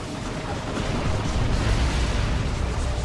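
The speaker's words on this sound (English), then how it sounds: "That is quite a large explosion, isn't it?" A huge explosion rips through a 3v3 Dawn of War 2 battle, a dense, sustained low rumble that swells after the first second and roars loudly without letup to the end.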